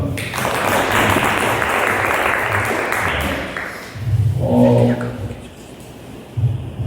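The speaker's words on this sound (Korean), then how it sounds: "네, 감사합니다. 박수." Audience applause at a coaching lecture, a loud broad wash of clapping that fades midway, followed by quieter room noise and brief murmuring.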